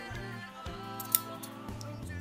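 Scissors snip through white hockey tape for a goalie stick knob, a single quick sharp cut over a quiet low hum, close and alone.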